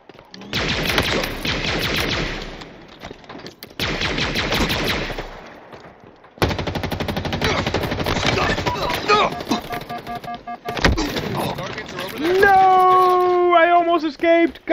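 Rapid automatic gunfire from a Halo Infinite multiplayer match comes in dense bursts broken by short pauses, loud and close, with game effects and tonal weapon sounds near the end.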